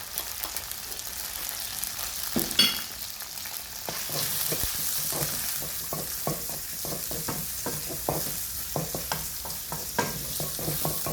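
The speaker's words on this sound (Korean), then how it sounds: "그리고 고기와 마늘을 같이 볶아줍니다" Meat and garlic stir-fry in a hot pan for bok choy with pork, a constant sizzle broken by repeated sharp spatula scrapes and tosses in a loose rhythm, close-up with no speech.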